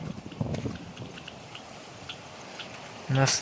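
Monsoon rain falls over a Konkan village as a steady, even wash of hiss, with faint background voices early on and a louder, closer burst of noise right at the end.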